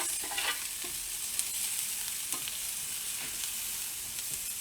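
Chopped onions frying in a pan give off a steady, close hiss of sizzling, with a few faint clicks and scrapes from stirring and no talking.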